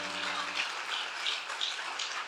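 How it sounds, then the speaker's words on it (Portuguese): A church congregation claps together in sustained, dense applause, an even crackling wash with no single claps standing out, heard at moderate distance. "Aplaudindo assim"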